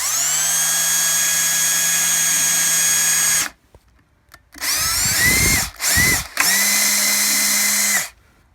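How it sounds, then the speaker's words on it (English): A power drill bores holes into the wooden box of a cigar box guitar, giving a loud, high whining spin in several bursts: one long run, a short pause, then a few quick starts and stops ending in another steady run. "I like to take the drill and drill out along this little line right here"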